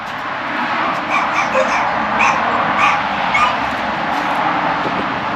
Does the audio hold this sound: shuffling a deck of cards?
no